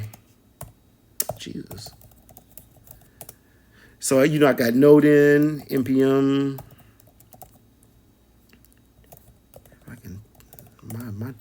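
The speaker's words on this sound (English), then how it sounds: "My typing is terrible today" Keyboard typing on a cloud PC, light clicky keystrokes in uneven bursts, close and soft, under a man's speech and a brief loud burst of talk in the middle.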